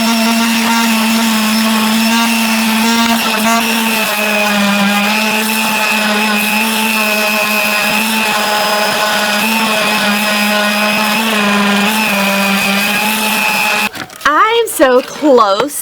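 A power sander works a wooden serving tray with a loud, continuous steady whine and grinding hiss that runs without a break before cutting off, followed by brief clattering noises.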